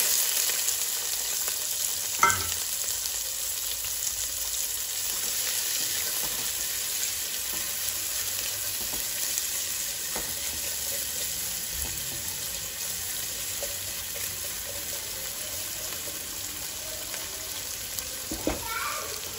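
Sliced onions fry and are stirred in oil for a mutton curry, producing a continuous crackling sizzle with occasional sharp clicks of the utensil against the pan.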